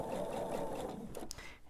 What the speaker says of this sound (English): Just sew a tiny bit of the seam to see if I have it lined up correctly this time.